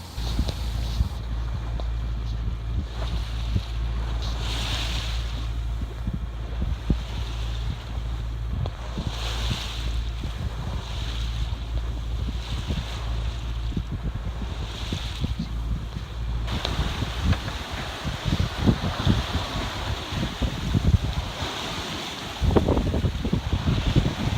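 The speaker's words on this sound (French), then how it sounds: "Petit vent force 4 du nord qui était imprévu sur les cartes météo" Steady force 4 north wind roaring at sea, with waves washing and slapping against a sailboat hull, growing rougher and more gusty toward the end.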